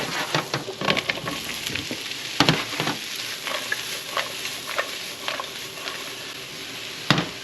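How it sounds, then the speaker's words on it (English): Vegetables fry in butter in a pan for a soppressata and cheese frittata, hissing in a steady sizzle while a utensil taps and scrapes now and then, close and clear. "Now we're going to throw our veggies in."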